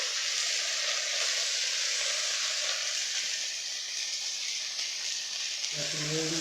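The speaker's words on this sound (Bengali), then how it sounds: "আদা আর জিরা যে বেটে রাখা হয়েছিল কড়াইয়ের মধ্যে দিয়ে নিয়েছে" Ground ginger and cumin paste fries in a wok with a steady, close, even sizzle throughout; a voice briefly begins speaking in the last moment.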